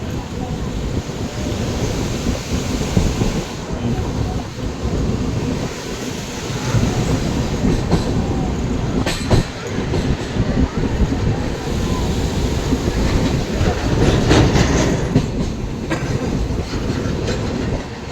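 A train crossing the Farakka Barrage over the Ganga gives a loud, continuous rumble with rhythmic clickety-clack of wheels on rail joints, heard from inside the moving carriage, along with a few sharper knocks.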